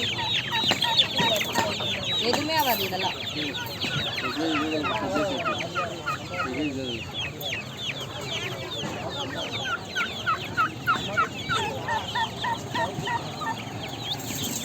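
A crowd of chickens and roosters, with guinea fowl, in Chennai clucking steadily throughout, busy and fairly close, with a voice speaking briefly in Tamil near the start.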